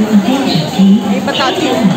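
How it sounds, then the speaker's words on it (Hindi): Busy crowd chatter fills a crowded New Delhi railway station, with a nearby voice talking over the steady babble. "बहुत भीड़ है।"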